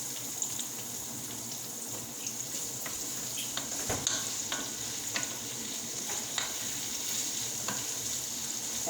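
Asparagus fries in grease in a pan, a steady close sizzle with faint stirring clicks running throughout, no talking.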